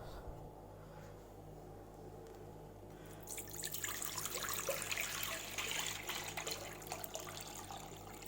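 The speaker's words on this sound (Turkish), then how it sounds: "Şu an suyunu koyacağız." Water runs steadily into a large pot for Turkish tutma soup, starting after a few seconds of quiet kitchen hum and continuing as a faint, close trickle.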